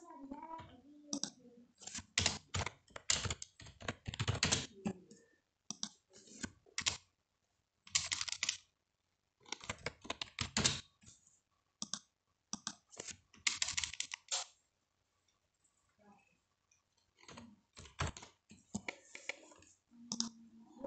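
A computer keyboard being typed on while a task is written into an online test platform: bursts of rapid, close clicking keystrokes separated by short pauses, steady and fairly loud, with no one speaking.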